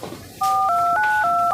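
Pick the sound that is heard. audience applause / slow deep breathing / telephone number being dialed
telephone number being dialed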